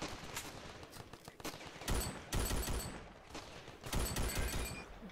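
Rapid automatic gunfire in the Ravenfield video game, dense crackling bursts that swell and fade in waves, with louder volleys near the middle and end, no voices.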